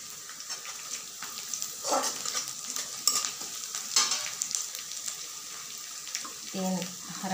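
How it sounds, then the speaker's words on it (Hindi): Garlic and ginger frying in a pan for a sweet and spicy tomato chutney, a close, busy sizzle with scraping stirs and small clatters, uneven in loudness. "बढ़िया तरह से भुनेंगे।"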